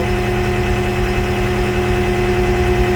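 A skid steer's engine runs loud and close while it lifts the box off a 2000 International 4700 truck, a steady droning rumble with an even, unbroken tone throughout.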